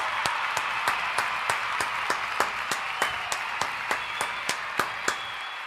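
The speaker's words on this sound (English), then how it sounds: "Another round of applause, man." Sparse, distinct claps ring out at a steady pace over a dense hiss of broad applause from an audience, the individual hand claps standing out sharply above the crowd.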